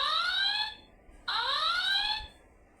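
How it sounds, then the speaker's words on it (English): A Star Trek toy from Playmates sounds its red alert, two loud rising electronic whoops in a row, each a bright sweeping tone that climbs and cuts off, with a short gap between. "So that's red alert."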